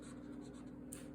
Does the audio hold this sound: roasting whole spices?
no